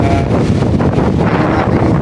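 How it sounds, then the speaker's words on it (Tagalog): Strong wind buffets the microphone in a steady, loud roar with rumbling gusts and no voices. "Malakas na hangin."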